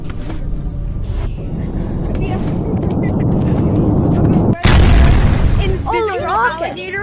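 A rocket explodes in a video game with a deep, loud boom midway, following a rumbling buildup, with speech-like sounds near the end.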